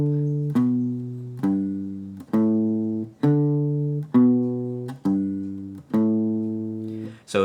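A walking bass line from a song, played as single low notes on acoustic guitar, about eight plucked notes in a steady stepping rhythm, each ringing and decaying, close and clear with no talk.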